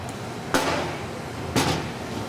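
A hammer taps out the old seal on a Taco FI pump, two sharp metallic knocks about a second apart, close and distinct over a low background hum.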